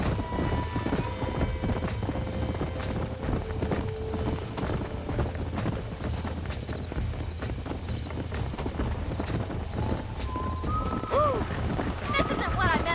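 Horses gallop in the Red Dead Redemption video game, a steady, dense clip-clop of hooves throughout, with whinnies rising near the end and voices speaking over the hoofbeats.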